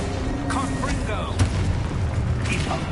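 A Confringo fire-spell blast from a wizard game lands as a deep, muffled boom amid a dense, noisy game soundscape, with a voice heard alongside.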